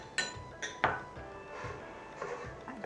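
Utensil stirring a wheat starch mixture in a bowl for kue ku cakes: a few sharp clinks and knocks against the bowl, then softer scraping, close and fairly quiet.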